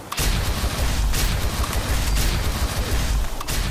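A plasma weapon in a wasteland shooter game fires rapid critical shots, producing dense, loud, continuous booming bursts that blur into an unbroken barrage.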